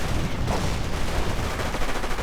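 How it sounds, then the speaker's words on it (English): Rapid rifle and machine-gun fire from Rangers shooting at Grenadiers in a real-time strategy game, dense overlapping bursts crackling continuously at close range. "Rangers keep just shooting away at the Grenadiers."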